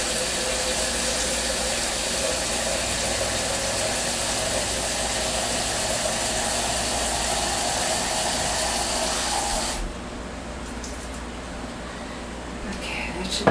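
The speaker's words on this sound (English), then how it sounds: "Okay, I'm filling up the water." Tap water runs steadily into a container for a pineapple wine ferment, a broad constant rush lasting about ten seconds before cutting off, with a quieter room hum left behind.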